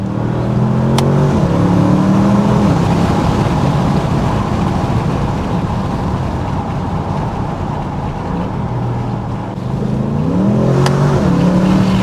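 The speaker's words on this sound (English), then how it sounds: "let's listen to the Audi S8 here under this bridge here in the first gear" A 2023 Audi S8 facelift accelerates hard in first gear beneath a bridge, its engine note rising loud and steady over about twelve seconds, dipping briefly before climbing again.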